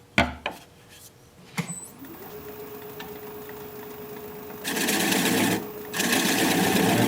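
Wood lathe turning a soft cedar tenon, with a few sharp knocks at the start followed by a steady whirring hum as the tool cuts, which then grows louder and harsher with a brief dip before it resumes.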